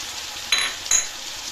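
Chopped tomatoes for pav bhaji dropped into hot oil in a pan, two short sizzling bursts that flare up and settle into a soft fry, near and alone.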